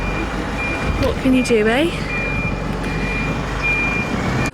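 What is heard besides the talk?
lorry reversing beeps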